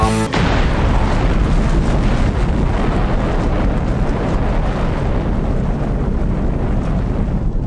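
An atomic bomb explosion effect opens with a sharp blast, then a loud, sustained roaring rumble that thunders on and slowly fades over several seconds.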